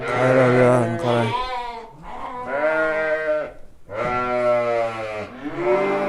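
Hissar sheep at a livestock market bleat loudly and close, one after another in a steady run of long wavering calls with short gaps.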